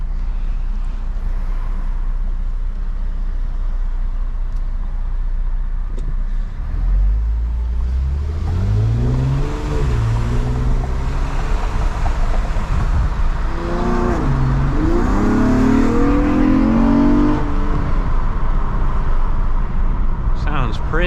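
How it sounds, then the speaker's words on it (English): Honda Accord V6 with an FBO exhaust heard from inside with the windows down, a steady engine drone rising through several revving sweeps as the car accelerates, loud and continuous throughout. "this is a good idea of what your exhaust will sound like"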